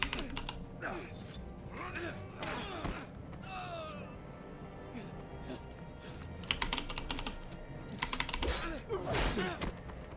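A computer keyboard hammered hard during a Game of Thrones Telltale game stream, clattering in dense rapid bursts with pauses between, while game voices and other sounds mix underneath.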